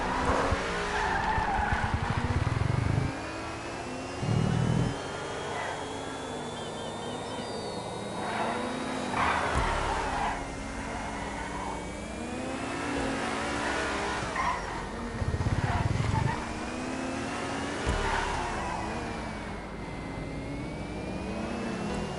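Toyota Voltic car driven in a video game, engine revving up and down with repeated tire squeals and skids, loud and continuous with no talking.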